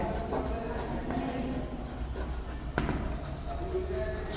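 Pen or chalk scratches out notes by hand during a chemistry lesson on plane polarised light, light scraping strokes in an irregular rhythm over a faint room hum.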